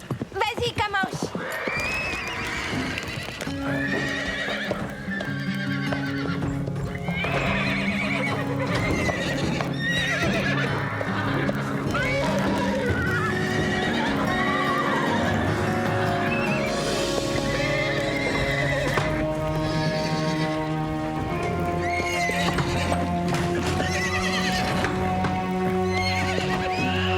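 Cartoon horses clip-clop at a gallop with loud whinnies and neighs over lively music, while characters talk throughout.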